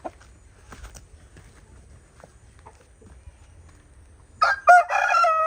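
A single rooster crows loudly near the end, following several seconds of quiet background murmur and faint scattered noises.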